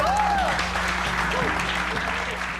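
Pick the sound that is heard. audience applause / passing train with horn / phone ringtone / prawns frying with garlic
audience applause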